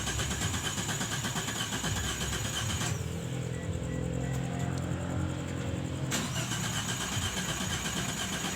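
Car engine revving during a home tune-up, a loud steady engine roar with a rise in revs in the middle, close by.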